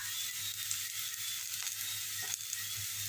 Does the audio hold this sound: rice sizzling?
yes